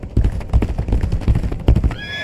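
A horse in the video game Legacy of Kain: Ascendance neighs loudly with a clip-clop of hooves, a short close whinny that breaks off into a high whistling tone at the end.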